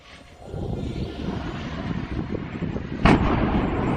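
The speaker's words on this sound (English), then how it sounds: "That earth-shaking fireball had come from a gas station just off the highway" A gas station beside a highway in Volgograd explodes in a huge fireball, heard as a deep, sustained roar rising in a rumbling swell, with one sharp, loud blast cracking through near the end.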